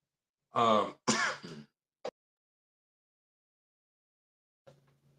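Two harsh throat-clearing coughs close to the microphone, followed by a short click and a faint rustle in silence.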